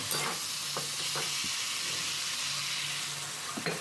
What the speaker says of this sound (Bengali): গ্যাসটা মিডিয়াম রেখে আপনারা এইভাবে নাড়াচাড়া করতে থাকবেন